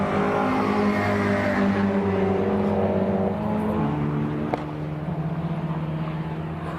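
MG race cars in a Cockshoot Cup and BCV8 Championship race on a dry circuit, engines roaring steadily and loudly together with layered revving tones that shift as the cars pass, a single brief click partway through.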